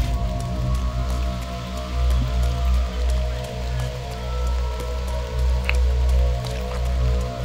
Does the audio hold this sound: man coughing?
no